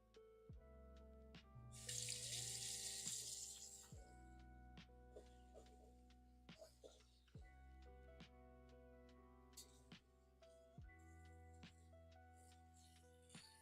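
Water running from a kitchen tap while items are rinsed, a short close burst of splashing flow, then scattered clinks and knocks of handling in a quiet room.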